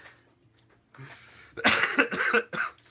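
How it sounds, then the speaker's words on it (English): A person coughs several times in quick, harsh bursts, close and loud, after a faint throat sound. "God, this cough."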